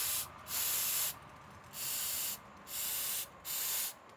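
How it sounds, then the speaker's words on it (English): Cleaner sprayed onto a Nissan MAF sensor in four distinct aerosol bursts, each a steady hiss lasting about half a second to a second with short pauses between, close and clear with no talking. "so let's spray it again."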